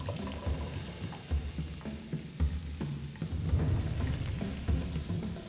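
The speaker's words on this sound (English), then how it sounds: "Next, we saute our vegetables." Wild celery and other vegetables sautéing in a pan, a steady close sizzle and fry with occasional stirring scrapes, no talk.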